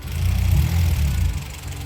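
A car engine runs after an oil flush, a steady low rumbling idle heard up close with no voices.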